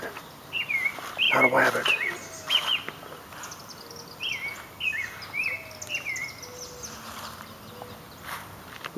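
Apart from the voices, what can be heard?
bird chirping in a yard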